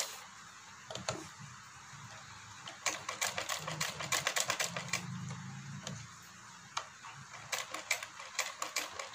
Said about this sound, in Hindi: तो चलिए सिलाई लगाते हैं, डिजाइनिंग स्टार्ट करते हैं।